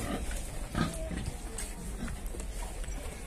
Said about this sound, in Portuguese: Vamos pesar até o bacurinho aqui.